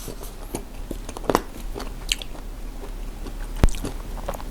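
Close-up biting and chewing of KFC fried chicken with a crunchy coating, irregular moist crunches and squishy bites at a steady pace, with one sharp click partway through; nobody speaks.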